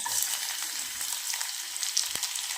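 Curry leaves sizzle in hot oil for kadhi, giving a continuous loud frying hiss with small crackles and one sharp pop, and no speech.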